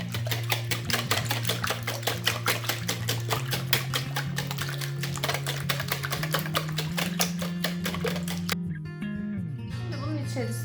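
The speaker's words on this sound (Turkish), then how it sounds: "Suyu ekliyorum ve çırpıyorum." Eggs and water whisked in a bowl: fast, steady clicking and tapping strokes, close and fairly loud, over a continuous low background tone, stopping near the end.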